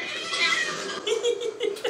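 A black cat yowls in a drawn-out, strained wail, followed by a few shorter rising cries, set against steady background sound from a TV horror drama.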